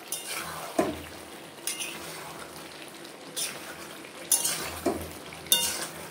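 Chicken cooking down in a pan for a chicken and mushroom curry, stirred with several faint, widely spaced spoon scrapes and clinks over a low sizzle.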